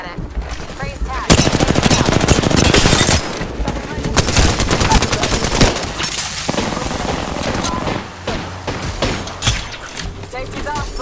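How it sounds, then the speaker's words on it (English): Sustained automatic gunfire from another squad in Apex Legends, loud rapid bursts and fusillades running through most of the stretch, with a player talking over the shooting. "That's another squad shooting at us."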